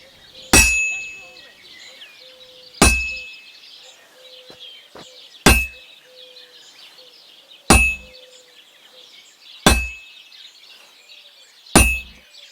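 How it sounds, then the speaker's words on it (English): In the Kingdom Come: Deliverance II video game, a hammer strikes a sword on an anvil, six sharp metallic clangs spaced about two seconds apart and each ringing briefly over a quiet background. "Now take the hammer and try hitting it a few times."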